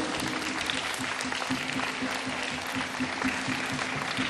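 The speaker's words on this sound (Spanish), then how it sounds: "Aplausos para el niño Jesús." A crowd at a parish Christmas gathering in Ica, Peru claps steadily and evenly for several seconds, a dense, continuous patter of many hands at moderate volume.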